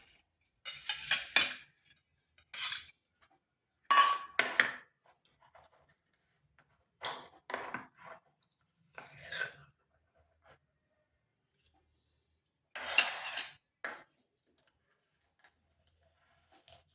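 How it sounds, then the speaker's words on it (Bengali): A spoon scrapes around steamed egg in a small bowl, making short, crisp scraping strokes in separate bursts with quiet gaps between them, close and clear. "এবার একটা চামচের সাহায্যে এভাবে ঘুরিয়ে নিচ্ছি"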